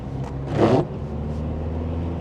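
Opel Astra GTC accelerating on the road, a brief swell of engine roar rising then fading back into steady cabin rumble and low drone, heard from inside the car with no voices.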